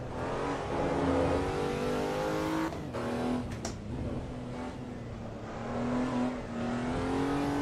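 Race car engine in Assetto Corsa EVO revs high and loud through gear changes, with a sharp drop and lift of the engine pitch midway before it climbs steadily again, heard alone without talking.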